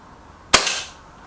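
A single sharp shot from a Reximex Lyra K air rifle carbine fired at small targets 23 metres away, a close, crisp crack with a brief hissing tail, alone in a quiet setting.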